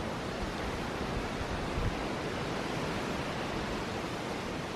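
Wind rushes past outdoors as a steady, fairly faint broadband roar that holds at an even level with no other clear sounds.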